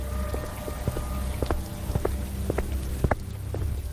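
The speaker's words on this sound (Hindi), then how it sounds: "इतने में बारिश और हल्की हो गई।" Light rain falls steadily, with scattered individual drops tapping distinctly over a soft, continuous wash of background noise; no voices are present.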